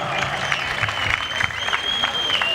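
An audience at a live stage show applauds with sustained, even clapping that stays close and fairly loud throughout.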